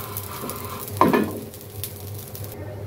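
Dried taki fish fries in a pan over high heat with a continuous close sizzle. A brief scraping stir near the start gives a louder burst, then the hiss settles.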